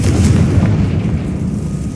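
Confringo fire spell blast in Hogwarts Legacy, a loud, deep booming explosion with a rumbling, sustained roar, close and heavy with no talk over it.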